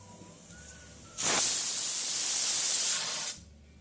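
A pressure cooker making dum tea lets out a sudden loud hiss of steam that holds steady for about two seconds, then cuts off abruptly, leaving a quiet background.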